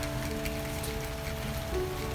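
Steady rain pours over a rain-soaked garden, a continuous broadband hiss of drops hitting surfaces with no talk, holding even and fairly close for the whole stretch.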